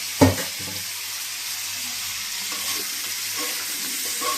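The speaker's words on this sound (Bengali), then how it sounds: "এটা একটু ভালো মতন করে কষে নিতে হবে।" Boiled jackfruit is stirred into a hot spice masala in a pan, opening with a sharp clatter before settling into a steady close sizzle with light scraping from stirring.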